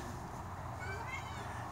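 A house cat that has just caught a mouse gives a faint, short meow over a steady low background hum, with no voices during the call.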